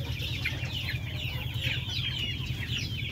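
Hungry backyard pet chickens cluck continuously in overlapping bursts, a busy, close, moderately loud chorus over a low background hum, with no talking.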